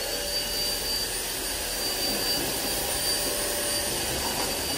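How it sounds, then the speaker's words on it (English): A Hoover ONEPWR Evolve Pet cordless upright vacuum runs at a steady, loud, whooshing whine with a continuous airy roar and no change in pitch, heard on its own with no voices. "this does have more suction than the other Hoover cordless vacuums that I've used"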